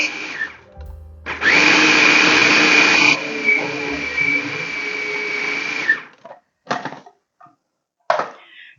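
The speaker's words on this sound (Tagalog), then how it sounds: "gagawin ko itong i-grind kong ating shrimp" An electric grinder blending shrimp for pork and shrimp siomai, a loud steady whirring motor that runs for about five seconds and changes pitch partway, followed by short bursts of clatter.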